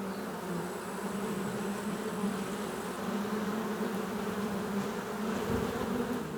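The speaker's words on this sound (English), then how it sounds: "Half the colony swarms out of the hole in the oak, starting the search for a newer, bigger home." A wild honey bee colony swarming out of a hollow in an oak tree, producing a dense, continuous buzzing drone, steady and fairly close, with no voices.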